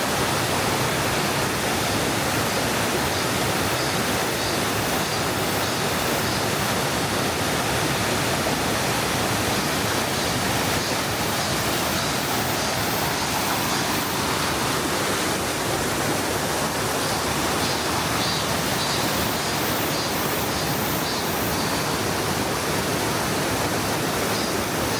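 A mountain valley stream flows below a bridge, a steady, dense rushing of water that stays loud and unbroken throughout.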